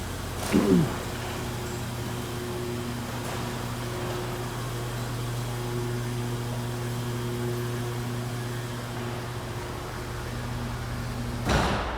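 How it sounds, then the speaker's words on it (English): A garage door rumbles closed with a steady low mechanical hum, bracketed by a clunk at the start and a thud as it stops, with a BMW Z8 inside. "let's close up the garage door."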